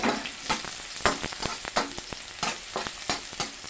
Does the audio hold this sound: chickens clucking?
no